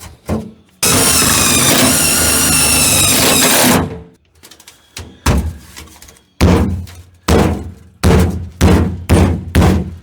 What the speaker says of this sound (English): Using my body hammer.